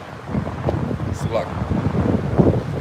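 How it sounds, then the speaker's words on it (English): Wind rushes steadily across the microphone outdoors, a moderate low rumble with faint talk mixed underneath. "it's very windy out here"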